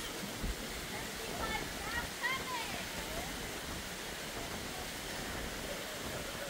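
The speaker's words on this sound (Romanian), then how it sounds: "Bate un pic vântul." Steady wind blows across a beach lined with tall palm trees, a continuous broadband rush with a few soft gusts, fairly loud and close, no voices over it.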